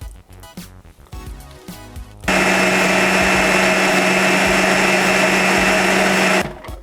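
A food processor blends mint and spinach pesto: after some brief clatter and handling, a loud, steady motor whir runs for about four seconds, then cuts off abruptly.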